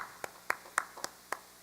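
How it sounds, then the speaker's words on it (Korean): A few scattered, faint claps ring out in a church during a Wednesday evening worship service, welcoming a young congregation member; five separate sharp hits spread irregularly over under two seconds, quiet and somewhat distant. "우리 박수로 좀 환영을 하십시다"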